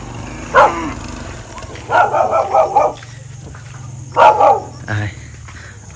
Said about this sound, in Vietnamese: Ui, có con chó kìa. Chó khá là to đấy các bác ạ.